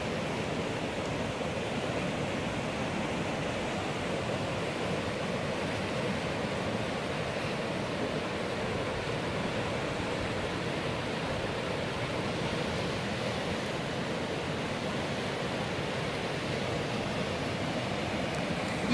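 Raging Coquihalla river in flood, swollen water rushing past boulders and jammed logs, a steady, dense, broadband roar that stays constant and close throughout with no voices.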